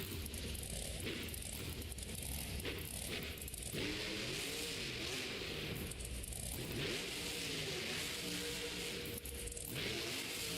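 A monster truck engine roars and revs steadily at a Monster Jam stadium show in Oakland, a continuous loud drone with rising and falling pitch sweeps and crowd noise behind it.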